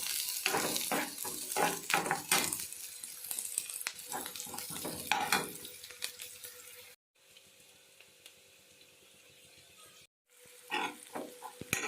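Vegetables such as chopped capsicum fry lightly in a pan for pasta, giving a close, steady sizzle broken by stirring scrapes, with a few quieter pauses in the cooking.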